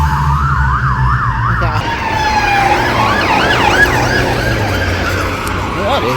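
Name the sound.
police car siren in London street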